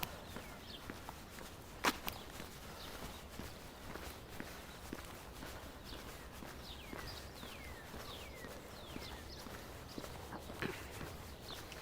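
Footsteps stomp steadily across a bridge in the Ramble of Central Park, Manhattan, on a sunny morning, a regular run of close thuds alongside scattered bird chirps and faint outdoor ambience.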